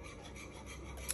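Chocolate being whisked into a milk, egg and sugar mixture for an espresso pudding, giving a steady, close scraping and rubbing texture that runs without a break, with no talk.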